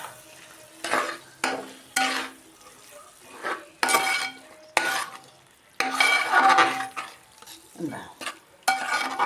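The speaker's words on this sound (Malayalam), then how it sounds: "മീൻ കുടഞ്ഞിട്ടു നമുക്കൊന്ന് ഇളക്കി കൊടുക്കാം" Fried fish being stirred into a pickle in a pan, with repeated scraping stirs and bursts of sizzling close by, separated by short quieter gaps.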